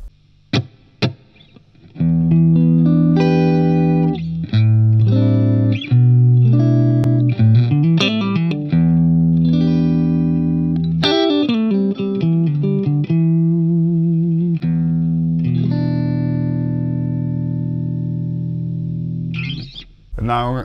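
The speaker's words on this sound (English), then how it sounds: "I'll give you the clean sound with no reverb." Clean electric guitar chords and single notes through a Bugera G20 Infinium Class A tube amp head on its clean channel ring out dry and close, strummed and picked in a loose rhythm with no audible reverb tail.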